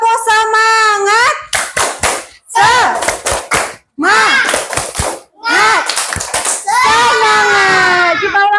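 Children perform the rhythmic Indonesian 'tepuk semangat' clapping chant, sharp bursts of claps in quick patterns alternating with loud shouted chanting voices, close and energetic.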